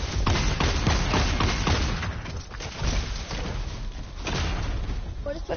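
Rapid gunshots in a first-person shooter video game crackle in loud, dense volleys that fade briefly and then resume, with players' voices talking over parts of the action.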